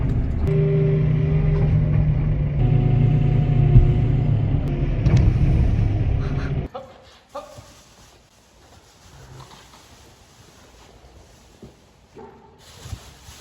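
An old tractor engine idles and rumbles with a steady low drone while spreading snow piles in a farm car park, then cuts off abruptly, leaving quiet with faint scattered noises.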